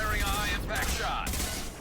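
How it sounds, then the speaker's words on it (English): A high-impact gunshot from the Mass Effect 2 video game sounds as a loud, dense burst of sci-fi gunfire. It sits over a continuous rumbling battle bed that fills the whole clip. "Firing a high impact shot."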